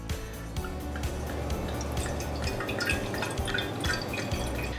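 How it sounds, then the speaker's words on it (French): Red wine poured steadily into a wide-based decanter, a continuous trickling, dripping liquid sound with small splashes throughout, fairly quiet and close, with no talking. "Quand on va verser le vin,"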